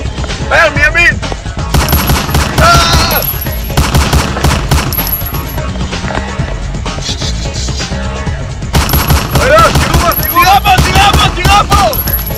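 Machine gun fire in a video game, loud rapid bursts of gunshots rattling almost continuously, mixed with game music and effects and occasional shouted voices.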